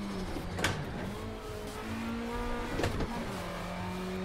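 Lancia Delta HF Integrale Evo in Need for Speed Shift 2, its engine revving with sharp blips and pitch drops as it shifts down, then droning on at steady revs.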